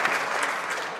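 Applause rises in the Canadian House of Commons during a sitting: a dense, steady wash of many hands clapping, fairly loud and unbroken, with no voices over it.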